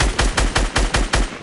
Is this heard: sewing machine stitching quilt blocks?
no